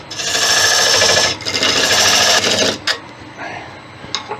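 A wood lathe turning the end grain of a monkey puzzle branch, cutting slowly: a loud, steady, buzzing cut for almost three seconds, then tapering to a few lighter scrapes and taps.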